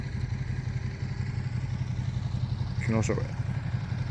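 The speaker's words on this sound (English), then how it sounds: "listen to the beautiful motorbike sound" A motorbike engine rumbles steadily at close range, a low, continuous throb that holds even throughout, with a person briefly speaking over it near the end.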